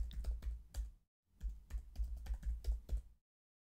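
Keystrokes rattle on a computer keyboard as a password is entered, a quick burst of clicks, a brief pause, then another steady run of taps, close and fairly quiet.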